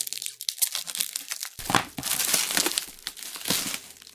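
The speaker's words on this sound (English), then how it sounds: "I hate these plastic bags." A plastic bag wrapped around a computer motherboard crinkles and crackles as it is handled and pulled open, a close, busy run of rustling with sharper bursts.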